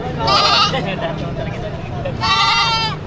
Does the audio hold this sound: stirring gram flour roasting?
no